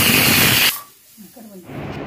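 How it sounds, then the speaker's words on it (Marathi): A pressure cooker whistle lets out a loud burst of hissing steam, which cuts off briefly and then starts again. "कुकरला 1 शिट्टी देऊन घ्यायची आणि गॅस लो ठेवायचा।"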